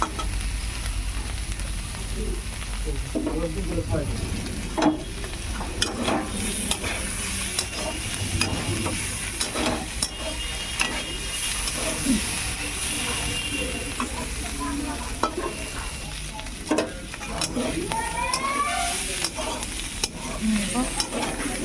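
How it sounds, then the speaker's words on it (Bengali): Chilli powder and spices fry in a pan for a rui fish, cauliflower and potato curry, giving a steady close sizzle broken by repeated scraping stirs throughout. "এবার ভালো করে কষিয়ে নেব"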